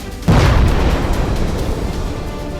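Explosion from an Israeli air strike in Beirut: a sudden heavy boom erupts and rolls into a long, loud, sustained rumble that barely fades, with no voices.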